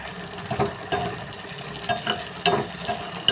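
Tempering of mustard seeds being stirred into cabbage dal that has cooked down with its water absorbed, giving a soft sizzle with scraping spoon strokes against the pot, close and moderately quiet.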